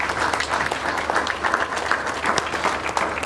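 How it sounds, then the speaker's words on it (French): Audience applause fills a conference hall at a Kinshasa conference on peace and security in Central Africa, steady and dense from start to finish, with no voices rising above it. "Merci d'applaudir encore une fois son Excellence"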